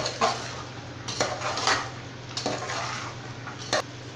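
Metal spatula clinks and scrapes against a pan as boiled chickpeas are sautéed with ginger garlic paste, tomato and onion for a chana pulao, giving scattered sharp taps over a low steady hum, with no talking.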